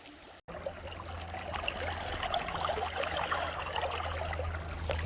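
Creek water flows and trickles steadily and softly around someone standing midstream while panning for gold, a continuous gentle outdoor rush after a brief cut at the start.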